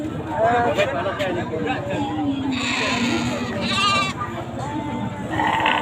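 Sheep bleat repeatedly at a busy livestock market, wavering calls rising over a steady crowd murmur and nearby chatter, with one louder, closer bleat in the middle.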